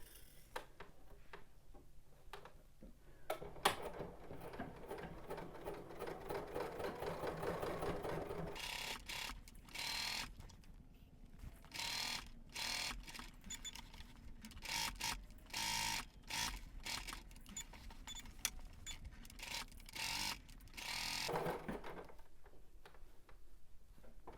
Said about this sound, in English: let's head over to the machine and edge stitch our pocket down